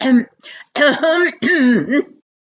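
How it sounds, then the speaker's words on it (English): A voice clears its throat deliberately several times in a row, close and loud, with brief pauses between the rough, voiced bursts. "when she heard him clearing his throat on purpose"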